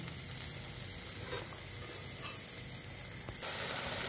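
A ground paste of cashew and melon seed fries in a pan for dum aloo, giving a faint, even sizzle and hiss heard close up with no voices.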